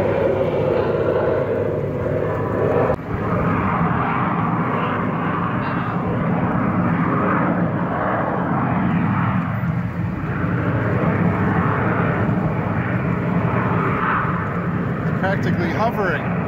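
Military jets fly low and practically hover overhead, their exhaust directed straight down, giving a loud, steady, ear-splitting roar that never fades, heard from a sailboat on the Intracoastal Waterway.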